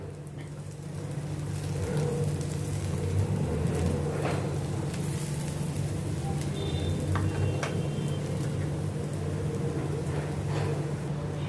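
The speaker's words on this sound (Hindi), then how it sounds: "इन सभी को मैं थोड़ा सौते करती हूँ जैसे सबका कच्चापन निकल जाए" Grated boiled potatoes sautéing in a pan with other ingredients, a steady close sizzle with occasional stirring scrapes running the whole time without talk.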